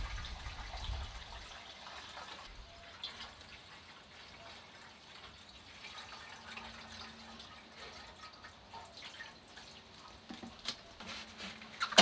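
Water emptied from a Peugeot 103 moped fuel tank while rinsing out rust, a soft, continuous trickle and drip of liquid with scattered small splashes, fairly quiet and steady throughout.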